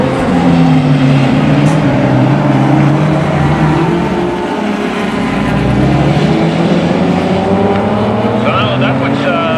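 Closed-wheel race cars circle the track at Mission Raceway, their engines a loud sustained roar with rising and falling pitch as cars pass close by, a commentator's voice faintly under the din.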